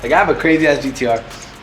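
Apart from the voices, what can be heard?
None of the usual background noises is heard.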